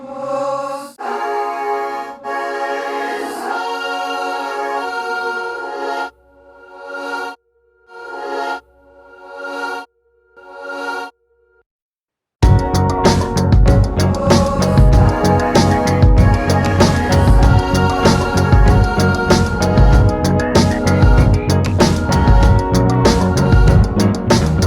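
A passage from a song treated with Slate plugins, Multipass or Snap Heap: a sustained, broken melodic line with short gaps, then a loud, dense full-band section taking over midway.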